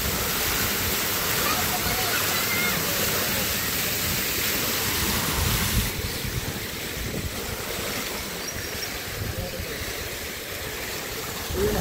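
Rushing river water at Bhurjung Khola roars in a loud, steady, close wash of turbulent flow that runs without a break for the whole stretch.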